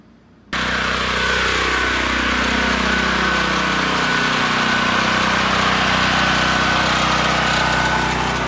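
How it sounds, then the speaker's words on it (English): A home standby generator runs steadily and loud after a sudden start, a constant droning engine hum with a faint high whine, unbroken for the whole stretch with no voices. "Generator's running."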